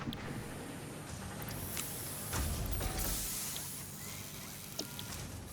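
A factory assembler making screws in the Satisfactory video game runs with a quiet mechanical whirr, with small creaks, ratcheting clicks and a brief swell of machinery noise midway, all faint and steady with no talking.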